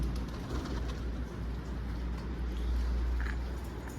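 A pigeon coos softly in low, repeated murmurs against a quiet background, with a faint patter of movement.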